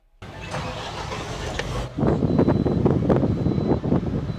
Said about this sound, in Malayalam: ഞാൻ ജസ്റ്റ് ഒന്ന് വണ്ടി സ്റ്റാർട്ടാക്കാം